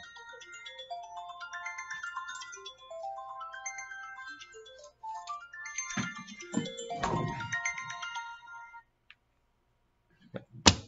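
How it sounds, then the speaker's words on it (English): A phone rings with a melodic ringtone, repeated rising note runs sounding clear and close, then a brief rustle and a final short beep. "now the phone's ringing"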